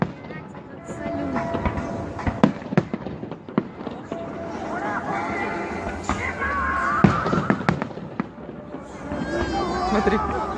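Fireworks salute bursts crack and pop repeatedly amid continuous crackling, close and fairly loud, with people talking and shouting nearby over the barrage.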